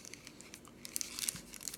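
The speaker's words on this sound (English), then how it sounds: "I'm going to basically fold my cupcake liner in half, and I'm going to scrunch it in the center" A paper cupcake liner is folded in half and scrunched at the center, giving soft, close crinkling and crackling rustles with a few sharper crunches near the end.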